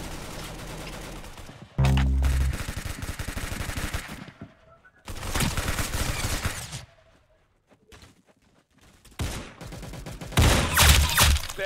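Automatic gunfire from the Roblox game Arsenal rattles in loud rapid bursts separated by brief quiet gaps, with one heavier blast early on and a dense final volley.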